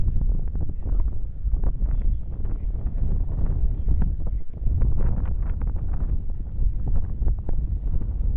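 Strong wind buffets the microphone outdoors near a bridge, a loud, gusty rumble that surges and dips throughout with no clear speech over it.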